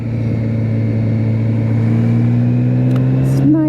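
BMW K1600 GT touring motorcycle cruising through the Black Forest, a loud steady engine drone with wind rush that rises slightly near the end, up close from the rider's seat.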